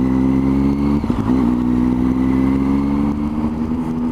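A Triumph Street Triple R motorcycle riding along a London street, its engine holding a steady, close droning hum with a brief dip and surge around the one-second mark; no talking.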